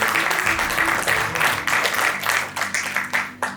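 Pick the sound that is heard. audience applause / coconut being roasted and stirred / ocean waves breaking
audience applause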